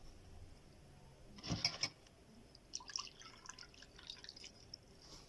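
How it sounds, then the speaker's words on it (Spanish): Water is poured into a transparent container: a faint, brief splash and trickle, then scattered soft drips in a quiet room, with no voices. "agregamos agua en el recipiente."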